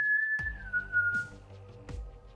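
A person whistles a single sustained high note that slides slightly downward and then fades, imitating the ghostly Whistler, clear and close, with soft thumps between.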